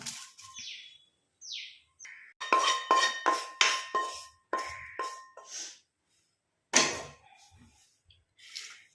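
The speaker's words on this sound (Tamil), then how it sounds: "இப்போ நம்ம எல்லாத்தையுமே தட்டில் கொட்டிட்டோம்." Roasted ingredients for a homemade hair remedy tip onto a metal plate in bursts of scraping and clattering, loud and close, between quieter pauses, while birds chirp faintly in the background.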